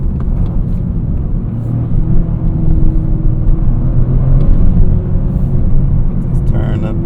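Toyota GR Corolla engine droning steadily from inside the cabin while driving, a low rumble with a mild rise in revs toward the end, continuous and fairly loud.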